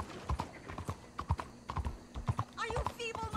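Horse hooves clip-clop at a steady trotting rhythm while riding in the video game Red Dead Redemption 2, close and prominent, with a brief whinny-like call and a voice near the end.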